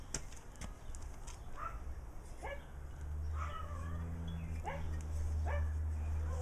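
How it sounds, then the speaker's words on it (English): Dogs in a woodworking shop bark and whimper at moderate distance in short repeated yips, heard over a steady low machine hum. "Don't mind the dogs, I don't."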